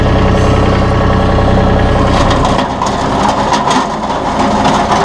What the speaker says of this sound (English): You watch as we go forward here, it's pulling a little material